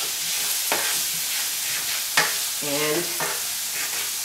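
Onions and diced red peppers fry in a pan, giving a steady close sizzle broken by a few stirring scrapes and a brief clink. A voice says a single word.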